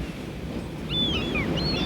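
Ocean waves washing against a rocky jetty in cold winter conditions, a steady broad rush of surf with wind noise, faint high whistling tones drifting over it.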